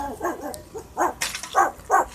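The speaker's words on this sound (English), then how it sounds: "My uncle's girlfriend's dog." A dog belonging to a relative's partner barks nearby in several short, sharp bursts, loud and close with no one talking over it.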